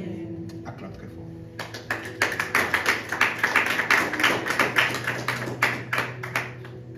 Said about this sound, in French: Acclame très fort.